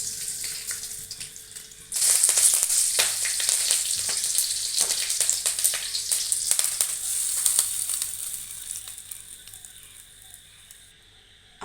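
Tempering spices for pirandai chutney crackling and sizzling loudly in hot oil, a dense spattering hiss that starts suddenly and gradually fades; no talking.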